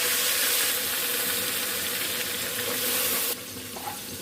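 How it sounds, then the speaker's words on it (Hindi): Water poured into a hot cooking pan of white chana curry on a stove over low heat, a steady close rush of water and faint sizzle that cuts off abruptly near the end. "थोड़ा सा पानी ऐड कर देते हैं।"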